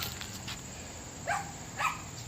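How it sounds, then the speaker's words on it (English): Two short, sharp Yorkie barks in the distance, about half a second apart, over a steady engine-like hum. "my crazy Yorkie Bobo in the background barking."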